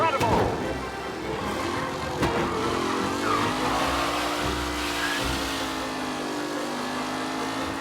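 Race cars in the Mafia: Definitive Edition video game, engines droning and rising in pitch as they accelerate along the track, a continuous layered motor roar under an announcer's commentary.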